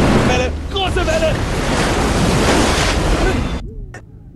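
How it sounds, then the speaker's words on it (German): A big ocean wave surges and crashes in the video game Uncharted, a loud, sustained roar of surf and wind filling most of the moment before cutting off abruptly near the end, with excited voices shouting over it. "Welle! Große Welle!"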